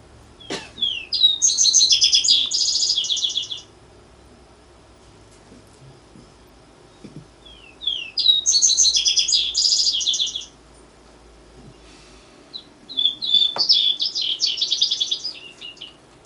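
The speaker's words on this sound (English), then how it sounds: "Vesper sparrow." A vesper sparrow sings three separate song phrases, each a bright, fast series of trills and slurred notes lasting about two to three seconds, with quiet pauses between them. The bird is fairly near and there is no talk.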